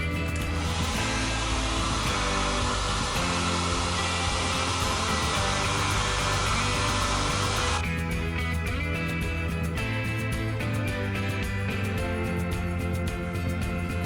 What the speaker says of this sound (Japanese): ドライヤーでね強制乾燥させておきます。